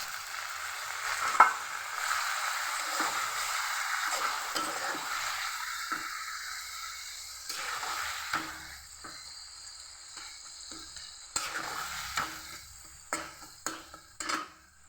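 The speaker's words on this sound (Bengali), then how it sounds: "এই যে দেখো, হালকা একটু জল দিয়ে দিলাম।" Paste being stirred in a pan just after a little water is added, a steady wet scraping and soft sizzle running throughout with occasional sharper utensil knocks, close and moderately loud.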